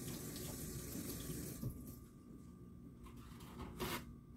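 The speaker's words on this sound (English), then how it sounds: "Now I have to rinse this off." Tap water running steadily into a sink while something is rinsed off underneath, a soft continuous splashing stream with small shifts as the object moves, no voices.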